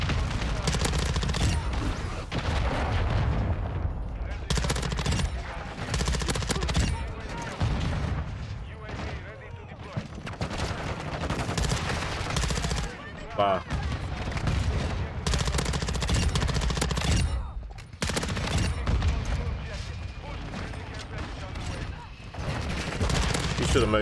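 Rapid gunfire rattles through a Modern Warfare 2 match in dense, loud repeated bursts with explosions mixed in, while a player talks over the action.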